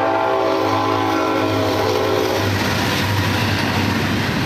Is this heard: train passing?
yes